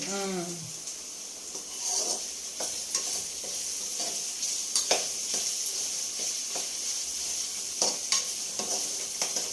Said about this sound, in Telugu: ఈ ఫ్రై చేస్తున్నావా చికెన్ పీస్లు?